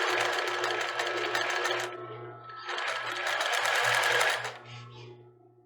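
Industrial sewing machine stitching along the overlock seam of a lace bra, running in two loud bursts of rapid whirring with a short pause between, close and alone without talk.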